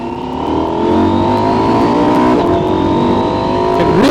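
A Husqvarna Norden 901 Expedition motorcycle on a winter ride at Hamlin Beach State Park pulls hard, its engine drone climbing steadily and dipping at quick-shifter upshifts, loud and close with no speech.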